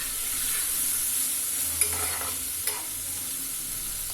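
Broccoli, potato and carrot fry together in a pan and are stirred now and then, making a continuous sizzling hiss with a couple of brief spatula scrapes.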